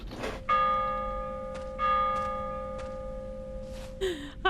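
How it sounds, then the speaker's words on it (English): A church bell rings in the horror game Prophecy, set in West Virginian folklore: a few loud, clear metallic strikes, each with a long ringing decay, separated by pauses, with some clanking noise near the end. "I just keep ringing every bell I see"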